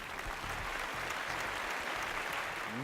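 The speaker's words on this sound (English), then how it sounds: "Give them a round of applause." Steady, moderate clapping from an audience honoring a competing team at a zero-waste challenge event, a dense even patter that holds throughout.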